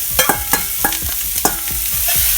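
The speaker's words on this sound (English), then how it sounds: "Pan is nice and hot. And I have ginger, mushrooms, red peppers, yellow peppers, and onion going in." Ginger, mushrooms, red and yellow peppers and onion hit a hot pan and stir-fry, with sharp repeated clanks of stirring over a steady sizzle, close and clear.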